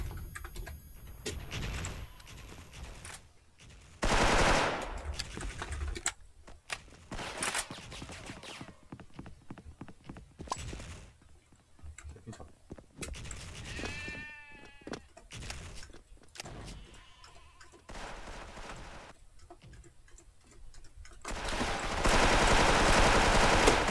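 Rapid rifle fire from an M4A1 in the online shooter Special Force, coming in short bursts among game effects and menu-like clicks, with a loud sustained stretch near the end.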